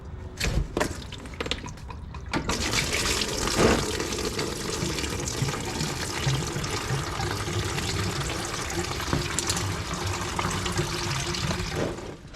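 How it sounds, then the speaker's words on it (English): Antifreeze drains steadily from the radiator of a Miata, a continuous near splashing pour of liquid into a pan that runs unbroken for several seconds after a few faint clicks. "So we're going to let the radiator drain for a little bit."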